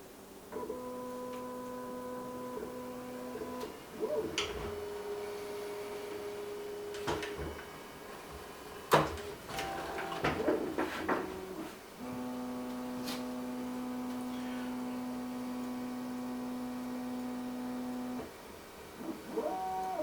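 A Bambu Lab A1 Mini 3D printer running, its stepper motors giving steady tonal hums and shifting whines broken by clicks and brief taps, fairly quiet and without talk.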